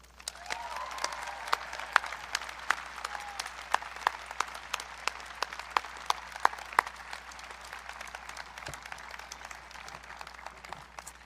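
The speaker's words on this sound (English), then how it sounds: "let's be sure to give them an extra loud round of applause" A graduation audience at Phillips Exeter applauds an award winner, a long stretch of fairly distant, steady crowd clapping with sharper individual claps standing out, no speech over it.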